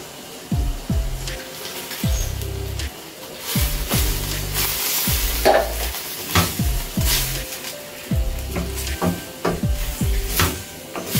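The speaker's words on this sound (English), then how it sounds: "we're going to add the Ackee in the pot" Ackee is added to a cooking pot and stirred, making a busy run of close scraping, clattering and rustling sounds with irregular knocks and a faint sizzle, and no talking.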